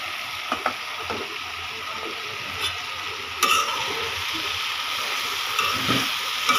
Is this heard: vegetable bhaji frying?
yes